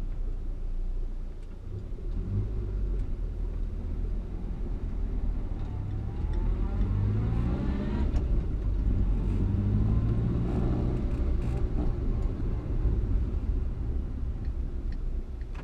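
An old Morris Minor car's engine runs with a steady low rumble throughout, swelling briefly as if revved partway through, heard from nearby outdoors with no talking.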